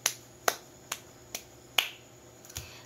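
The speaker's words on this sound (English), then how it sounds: "Let us also give them 5 claps for doing so well in this activity." A classroom group claps in unison five times at an even, brisk beat, each clap sharp and close, followed by a softer scattered clap at the end.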